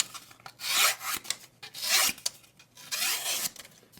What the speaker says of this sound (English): Remember when cutting cardboard, don't cut perpendicular, but at an angle.